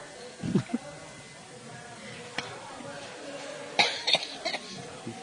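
A couple of short coughs from someone who is ill near the start, then a few sharper bursts later, against a quiet room background.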